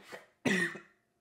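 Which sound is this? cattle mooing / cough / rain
cough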